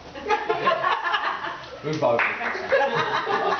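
Audience clapping at a best man speech during a wedding, mixed with laughter and chatter that carry through the room, fairly loud and close.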